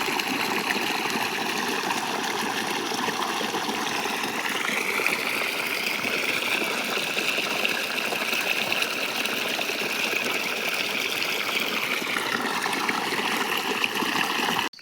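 Steady flowing water from irrigation of a fodder field on a farm at night, a continuous even rush and gurgle that stays close and unbroken throughout, with no voices.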